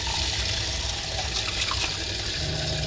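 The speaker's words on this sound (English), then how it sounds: "first things first, we have to rinse our rice" Rice rinsed with water in an Airstream RV kitchen, a continuous close rushing and sloshing of water with low rumbling, steady throughout.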